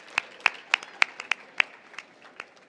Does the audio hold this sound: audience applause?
yes